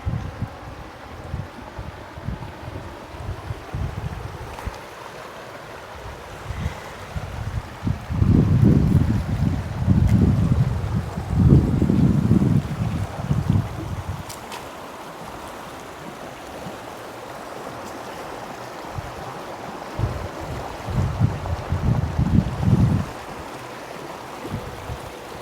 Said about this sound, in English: sit out here in your lawn chair so you could just enjoy the peace of the river, the sound of the water